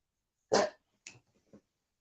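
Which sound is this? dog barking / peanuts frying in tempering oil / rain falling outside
dog barking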